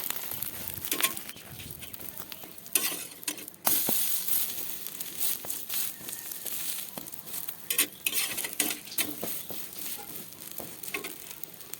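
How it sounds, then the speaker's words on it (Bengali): Bread slices and an egg fry on a tawa for breakfast, a soft sizzle broken by repeated scrapes and clinks of a spatula turning the pieces, close and fairly quiet. "তো এই যে দেখো উল্টে পাল্টে ভালো করে আমার ভাজা হয়ে যাচ্ছে।"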